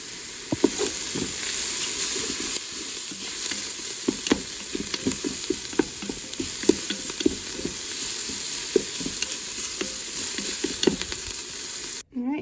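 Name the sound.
sauteing minced garlic in a Ninja Foodi Grill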